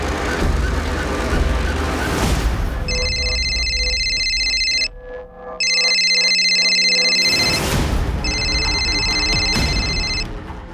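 An electronic phone ringtone on an outgoing call repeats in bursts of bright stacked tones, two or three rings with short gaps, over a low rumble like a moving vehicle.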